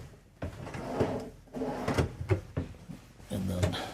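Pull-out drawers in the middle storage of a 2023 Newmar Mountain Aire 4551 motorhome sliding open and shut, several close knocks and runner rumbles over about four seconds, near and fairly quiet, with background speech-like sound.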